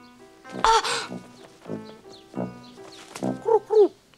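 A cartoon pigeon coos and warbles in several short, close bursts with gaps between them. The calls are clear and moderately loud.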